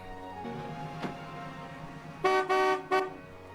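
A car pulls up with a low engine rumble, then its horn honks three times, loud and close, in short bursts.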